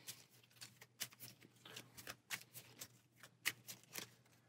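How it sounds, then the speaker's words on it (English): A deck of board game cards for Star Wars Dark Side Rising being shuffled by hand, with quiet, rapid riffling snaps and flicks repeating in an irregular rhythm, close and soft, with no talking. "So we'll give this a good shuffle."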